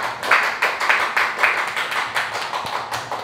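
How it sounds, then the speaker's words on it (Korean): Members of a Korean church congregation clap for the worship team at a Wednesday service, giving steady, fairly loud applause with rhythmic, evenly spaced bursts that sound like a crowd clapping roughly in time. "우리 모후 찬양팀에게 한번 박수 한번 부탁드리겠습니다."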